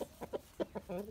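A Dong Tao dragon chicken, an ornamental breed with very thick legs, gives a series of soft, faint clucks in short irregular bursts, heard fairly close.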